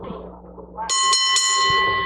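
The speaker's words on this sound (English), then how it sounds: "Well, the bell is gone. We're underway." A single loud ringing strike of a wrestling ring bell opens a match at an outdoor show in Merom, Indiana, its bright tone sustaining over crowd murmur and then decaying.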